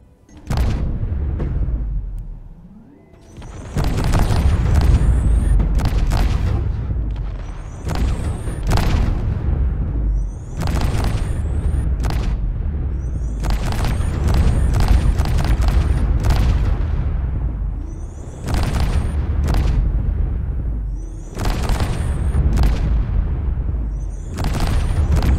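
A chain-fed chailgun fires in repeated rapid bursts, heavy booming thuds running together with sharp metallic cracks on top, loud and close with short pauses between volleys.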